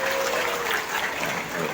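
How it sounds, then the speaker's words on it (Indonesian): Crowd applause at an Indonesian gathering of volunteers hosted by the Social Affairs Minister: a steady, dense wash of many hands clapping at once, sustained and fairly loud for under two seconds. "Tepuk tangan untuk rumah kita sendiri"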